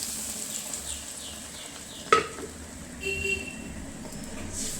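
Steady stirring of sambar in a pot, with one sharp clink of a utensil against the rim midway and a soft scraping swirl afterward over low background hum.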